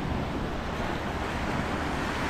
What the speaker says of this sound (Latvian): te ir smilšu pludmale